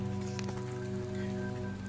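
Steady rain patters on surfaces in a dark city of towering statues, a continuous wash of drops over a low droning hum and tonal background, with no talking.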